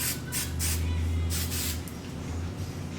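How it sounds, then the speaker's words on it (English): Hairspray is misted lightly onto freshly cut hair in several short hissing bursts, close and fairly quiet, with a low background hum and no talking. "Put a little bit of hairspray on there,"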